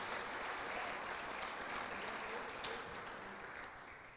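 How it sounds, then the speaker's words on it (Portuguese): A church congregation applauding during a worship service, a dense, steady wash of many hands clapping that holds for several seconds and slowly fades toward the end. "Dá um aplauso a Ele bem forte."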